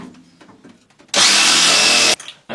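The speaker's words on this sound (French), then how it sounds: "Découper mon tuyau ici." A power tool bites into a plastic pipe during an abandoned-house renovation, giving one loud, close, steady burst of about a second. Short quieter handling and rustling sounds come before it and after it.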